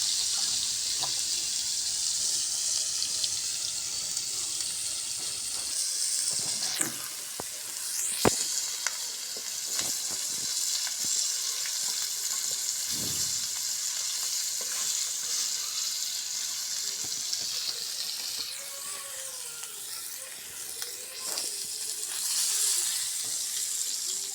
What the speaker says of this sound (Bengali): মাছের লবণ আর হলুদ দিয়ে মাখে নিয়ে তাওয়ায় দিয়ে ভাজতেছে